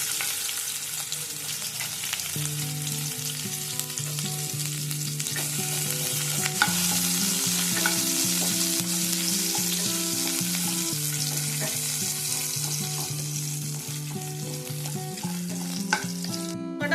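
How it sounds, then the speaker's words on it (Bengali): Chopped ginger, garlic and green chili frying in oil left from fried fish for chilli fish, a loud continuous sizzle near the pan over a steady low electric hum, no talking. "এবারে আমি এই তেলের মধ্যেই আদা রসুন কুচি দিয়ে দেবো"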